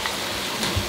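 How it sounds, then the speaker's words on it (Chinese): Vegetables stir-fried in a hot pan, a brief close sizzle with soft scraping as they are tossed, steady and alone without talk. "翻炒这个"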